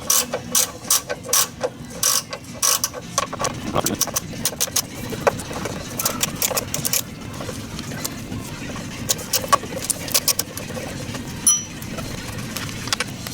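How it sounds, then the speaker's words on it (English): Ratchet loosening nuts on a DeLorean during a cooling fan installation, rapid clicking bursts repeating throughout, close and fairly loud, with clinks of metal parts in between. "So once you've got your knocker loose on there, you can then should be able to loosen up the nuts."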